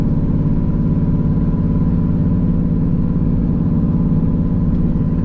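A cammed Pontiac Trans Am idles with its exhaust cutouts open and dumping midway under the car, a loud, steady low rumble with a choppy lumpy pulse, heard from inside the cabin.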